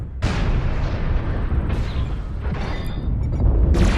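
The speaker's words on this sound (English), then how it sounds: "I'll shoot this UAV down if we can." Weapons fire in MechWarrior Online as a Dragon 1C mech shoots down a UAV: loud, continuous rumbling blasts with several sharper bursts rising over the barrage, close and heavy throughout.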